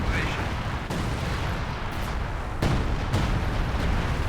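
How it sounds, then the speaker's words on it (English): Artillery barrage in a real-time strategy battle, a dense continuous rumble of explosions with several sharper blasts punching through, loud and sustained. "And it looks like that artillery barrage is going to be a complete waste"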